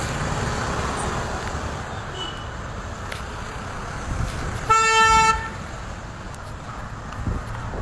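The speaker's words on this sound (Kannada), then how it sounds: "ತಿರ್ಗಾ ಟ್ರಾಫಿಕ್ ಆಯ್ತಲ್ಲಿ ಮುದ್ದಿಯ ರೋಡಲ್ಲಿ." Road traffic on a busy Bengaluru street: a steady rumble of passing vehicles, broken by one loud, close car horn blast lasting about half a second.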